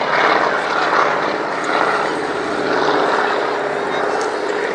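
A vintage navigational trainer aircraft, later converted to passenger transport and owned by BAE Systems, flies at the RAF Cosford air show, its engine drone loud and steady throughout.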